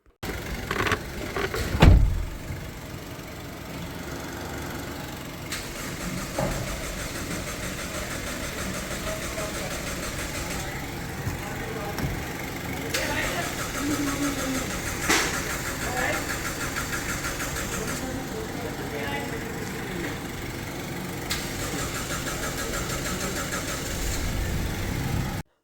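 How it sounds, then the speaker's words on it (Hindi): A 2011 Toyota Land Cruiser Prado with a misfiring engine and an empty fuel pump cranks at length and then catches into a steady idle, close by, while someone talks over it. "तो जब आप गाड़ी करेंगे स्टार्ट तो थोड़ा सेल्फ गाड़ी लंबा लेगी।"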